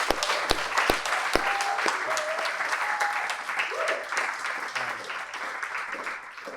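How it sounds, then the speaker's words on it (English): An audience claps at a strategy launch event, giving a sustained, even roar of applause from start to finish with a few sharp nearby claps early on, slowly thinning toward the end. "please give these guys a round of applause for their effort"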